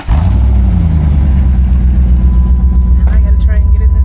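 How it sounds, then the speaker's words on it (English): A green Jeep, a lifted off-road beast, rumbles steadily at close range with a deep, continuous engine drone that swells slightly as if revved, with no talk over it. "Put your foot on the brake and start it up"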